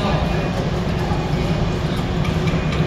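An underground airport train in Thailand carries passengers between the main terminal and a concourse. A loud, continuous rumble and rattle of the moving carriage holds steady throughout.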